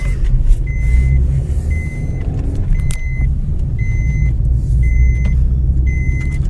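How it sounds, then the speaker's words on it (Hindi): Seatbelt warning chime in a moving car: a steady, regular series of short beeps repeats every second or so, clear above the loud rumble of road and engine noise. "बेल्ट लगानी पड़ेगी, नहीं तो ये गाड़ी है ना बोलती ही रहेगी।"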